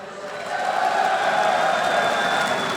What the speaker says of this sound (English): This crowd is absolutely phenomenal.